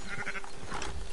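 Sheep bleating in the video game Red Dead Redemption 2, a short burst of wavering bleats, fairly close and loud over steady game ambience, with no talking.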